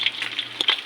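Dabong, bamboo shoots, fry in a pan with a steady crackling sizzle and a couple of sharper spatter pops, close and alone, over a faint low hum.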